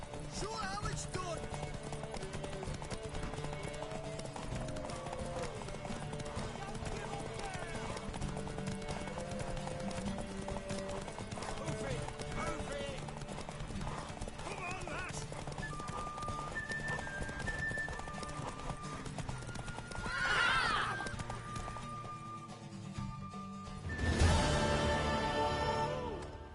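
Horse hooves clip-clop and a horse whinnies in The Witcher 3, beneath steady game music and character dialogue, with louder bursts of movement near the end.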